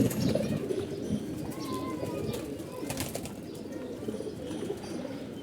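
Red racing pigeons coo together in a low, continuous murmuring burble, close by, with faint flutters and small chirps mixed in.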